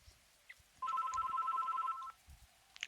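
Telephone ringing in a point-and-click video game, one electronic ring that lasts about a second and a half before cutting off, clear and alone over quiet background.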